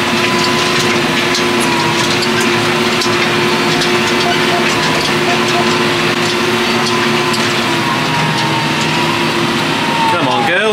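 A loud, steady tractor engine drones and labors continuously at close range while ripping up permanent pasture, a thick low rumble filling the whole stretch with no pauses.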